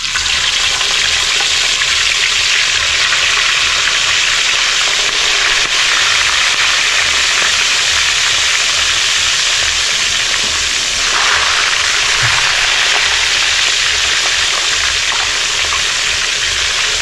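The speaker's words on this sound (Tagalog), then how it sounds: "umpisa na prito mga kaibigan" Freshly caught fish fry in hot cooking oil, a loud, continuous close sizzle and crackle with no voices.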